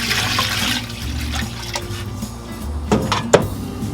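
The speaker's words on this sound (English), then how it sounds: "and then we're going to add in some water." Water poured from a container into a cooking pot holding a whole 4-pound chicken, a steady close splashing pour that runs continuously with a couple of sharper splashes near the end.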